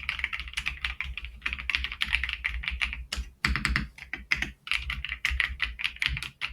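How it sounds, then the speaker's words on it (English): Rapid, steady typing on a creamy-sounding mechanical computer keyboard, close and clear, with soft thocky keystrokes in quick bursts and one brief pause, and no talking. "That's a creamy keyboard."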